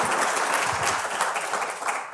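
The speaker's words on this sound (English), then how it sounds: "Let's give our panelists a round of applause" Symposium audience applauds the panelists: dense, close clapping from a roomful of people, sustained and even for about two seconds, with no talk.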